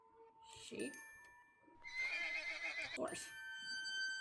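A toy horse neighs in the Hello Puppets: Midnight Show video game, a bright whinny standing out over game music and tones, with quieter speech-like sounds around it.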